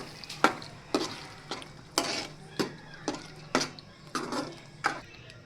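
A spoon stirring bottle gourd curry seasoned with coriander-cumin powder in a pan. About ten rhythmic scraping strokes clink against the metal over a faint, steady sizzle.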